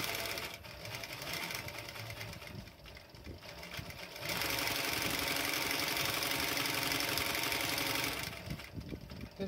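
A leatherworking sewing machine stitches leather in a workshop, starting with slower uneven bursts, then running loud and steady in a fast mechanical whir before easing off.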